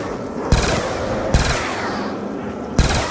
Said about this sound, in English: I got the Cap 40. Great gun